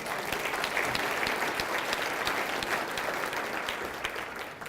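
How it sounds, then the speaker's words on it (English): A seated audience at a chapter talk gives sustained, dense clapping for nearly five seconds, close and even in level, with a few louder individual claps standing out. "So you just clapped, and I didn't even tell you why."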